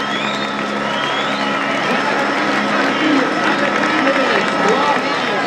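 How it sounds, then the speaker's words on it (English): A huge crowd at the finish of the Fleche Wallonne cycling race makes a constant roar of cheering and chatter, with whoops rising above it and a commentator talking over the din. "Huge crowd here enjoying the atmosphere at the end of Fleche Wallonne."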